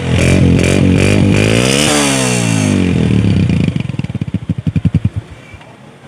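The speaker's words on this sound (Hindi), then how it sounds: "सेल्फ ने किया फौरी काम। होंडा 125 हुआ स्टार्ट।" A Honda 125 motorcycle fires up on its electric self-start: a loud, rising whir and clatter that catches, then settles into a close, steady, pulsing idle.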